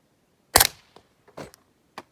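Several sharp shots from a VZ 61 Skorpion at an outdoor range: one loud crack, then a faint pop, a quick pair and a final shot, spaced irregularly.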